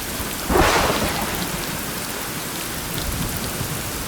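A video game thunderstorm pours heavy rain, with a thunder crack bursting in near the start and rolling off into a steady hiss of downpour; no voices.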